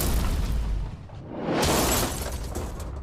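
A Lamborghini blowing up in an explosion, a sharp shattering burst over a loud, continuous roar that swells and stays heavy, close and powerful, with no talking.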